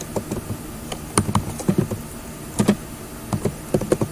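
Computer keyboard typed in short irregular bursts of crisp key clicks, close and fairly loud, with pauses between the runs of keystrokes.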